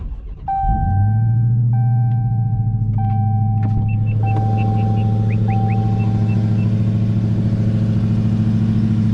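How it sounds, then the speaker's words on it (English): Dodge Challenger SRT Hellcat Redeye Widebody V8 cranking and catching in eco mode on a warm start, settling into a loud, steady, deep idle rumble close by with a faint chiming tone above. "when I start this thing up, it's going to be in eco mode, and it's going to be a not so cold start"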